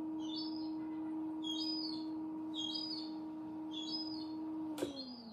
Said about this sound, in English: Listen to that seagull.